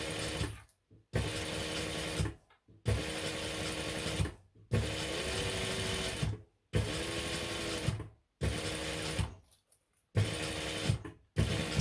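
A sewing machine runs in repeated loud bursts of about a second or more, separated by short silences, as it stitches along the outer edge of a fabric wristlet for a travel organizer wallet.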